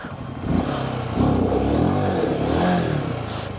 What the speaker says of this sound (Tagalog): Lalo nagagalit yung motor pagka nakakita ng lubak eh.